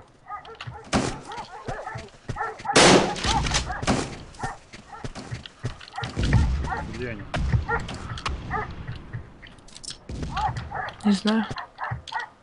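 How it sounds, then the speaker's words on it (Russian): Dogs bark in short bursts over a call during an urban 3x3 game session, partly under constant chatter from several people talking nearby. "Я собак слышу в твоем пункте."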